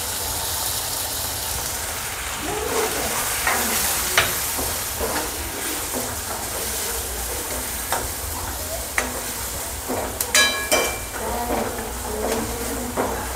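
Onion and potato kachori filling, seasoned with homemade spices, is stirred in a pan over steady sizzling, with repeated scraping and clinking strokes from a spoon that grow sharper near the end, close by and without speech.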